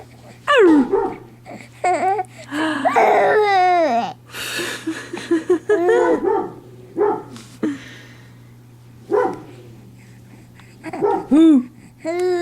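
A baby babbles, squeals and coos in short bursts with pauses between them, close and fairly loud over a low steady hum.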